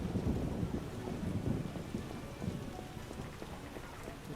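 Steady rain falls in The Witcher: Enhanced Edition, a dense, even patter of drops on surfaces that holds a constant level throughout, with no voices over it.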